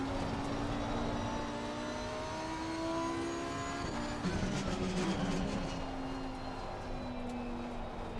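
Race car engine in the Assetto Corsa Competizione driving game, steady loud droning with revving and a burst of crackling exhaust pops around the middle, continuous throughout.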